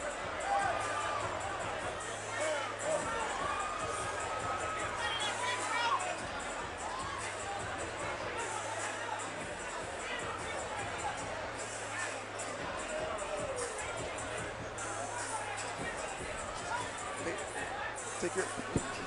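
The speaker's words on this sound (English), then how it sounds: "The crowd out of control here." Rowdy arena crowd at a fight night, a steady roar of chatter, shouting and cheering that stays loud throughout, with scattered whistles and voices rising above the babble.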